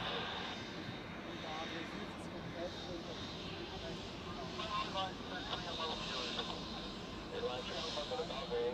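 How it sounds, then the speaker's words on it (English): A Delta Airbus A330 jet airliner bound for New York at Zurich airport, runway 28, heard as a steady broadband engine roar from a distance on an observation deck, with a voice talking over it throughout. "the next one is a Delta A330, yes, to New York"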